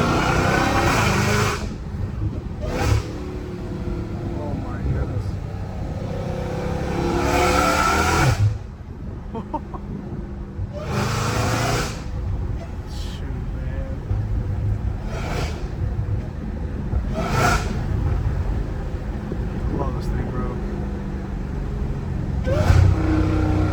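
An 800-horsepower Dodge Hellcat Redeye roars and revs loudly while driving through city streets, its engine swelling in repeated surges with a few sharp blips and brief lulls between pulls.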